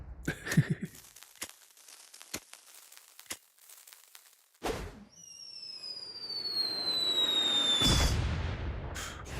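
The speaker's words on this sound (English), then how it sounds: "And drop the bomb." A bomb goes off in South Park: The Stick of Truth, with scattered game clicks and pops leading into a loud burst, followed by descending whistling tones and a long rumbling explosion that swells and fades.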